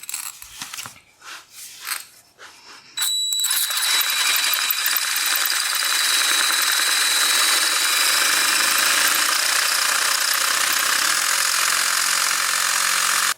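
A power drill boring into a garage floor for a winch installation, with a few sharp knocks at first, then a steady loud whine and grind that holds under heavy load and gradually slows near the end.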